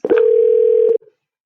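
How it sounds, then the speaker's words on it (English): A single steady dial tone as a phone call begins in Google Hangouts, loud and close, holding for about a second before cutting off, with no talking. "your phone call will automatically start"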